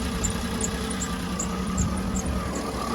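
2009 Cadillac Escalade engine idling after an oil pickup tube repair, a steady low rumble with a faint rhythmic ticking on top, heard up close and alone.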